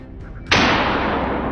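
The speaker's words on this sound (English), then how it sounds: "After a gunshot, the biggest wild boar collapsed on the spot." A single sharp gunshot from a wild boar hunt in brushy Wisconsin terrain cracks out after a quiet moment, followed by a long, rumbling echo that slowly fades.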